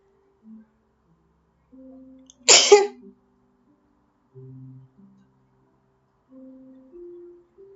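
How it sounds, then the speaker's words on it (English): A single sharp sneeze bursts out once, close and loud, with faint murmured sounds before and after it in an otherwise quiet room. "I giggled because I hardly sneezed just one time."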